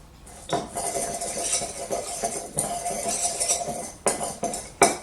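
A spoon stirring a spice mix in a bowl, with continuous scraping and clinking of metal against the dish, close by, ending in a few sharper knocks, no voices.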